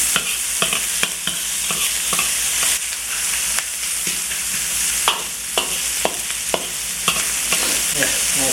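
Sausages and onions with eggs and bacon sizzling loudly in a pan for fried rice, with a steady hiss broken by repeated scraping stirs and clanks, no talking.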